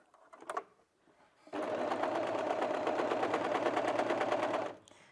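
An overlocker stitches a cushion seam in one continuous run of about three seconds, a fast, even, close mechanical whir after a few quiet handling clicks.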